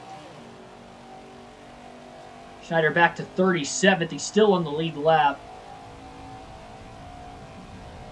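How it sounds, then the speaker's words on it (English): A pack of stock cars races at Daytona in NASCAR 21, heard as a steady engine drone running throughout, with a commentator talking over it midway. "Hungry pack of cars racing their way on through."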